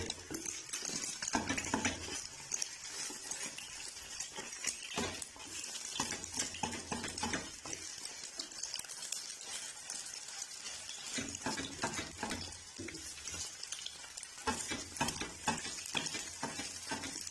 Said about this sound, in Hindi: अभी आस्ता आस्ता चम्मच की मदद से इसे जो है तोड़ लेंगे।